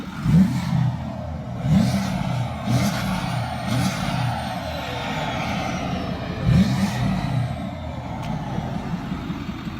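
Loud, close revving of a Ford Powerstroke diesel truck fitted with a 5 inch straight pipe, repeated deep throttle blips rising over a steady heavy diesel idle, no talking.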